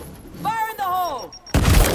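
A grenade explodes in a war video game, a sudden loud broadband blast near the end after a voice shouts, with speech and radio chatter beforehand.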